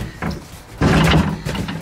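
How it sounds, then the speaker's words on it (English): The back door of a VW Thing is opened up close. It makes a muffled metallic clunk and rattle, with a few softer knocks before a louder burst of creaking and banging near the middle. "I might actually have to go through the back door here."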